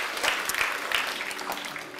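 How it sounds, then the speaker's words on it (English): A church congregation gives a brief, steady round of applause at the close of a sermon, dense overlapping clapping with a faint murmur of voices underneath. "Let's give a God the hand of applause."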